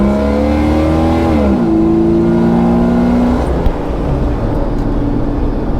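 A car engine with a newly installed throttle body revs, its pitch climbing and shifting through rising tones over a loud steady roar, then settles into a rougher, noisier drone; no voices.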